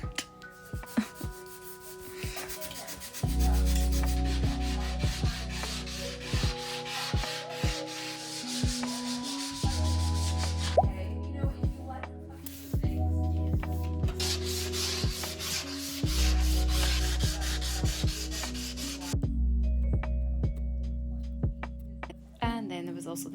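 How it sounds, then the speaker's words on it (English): Sanding a brand new plastered wall in a kitchen renovation, with rubbing, scraping strokes in repeated bursts, close and moderately loud, broken by short pauses and sharp clicks. "I was literally sanding this wall for hours."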